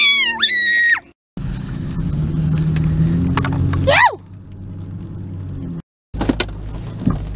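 A small four-wheel-drive truck plows snow in a driveway on a Canadian winter day. A loud, steady engine rumble rises and falls, broken by high squeals and whines and a couple of abrupt cutoffs.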